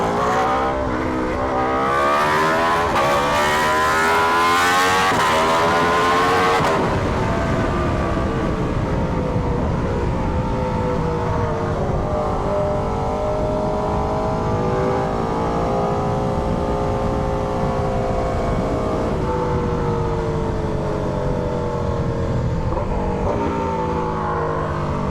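A loud motorcycle fitted with an SC GP22 exhaust revs up and down, rising and falling pitch with a rough throaty rumble, close and continuous, no voices.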